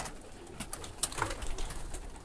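Homing racing pigeons take off for an evening flight, giving soft, faint cooing and brief fluttering bursts around the loft, fairly quiet and without talk.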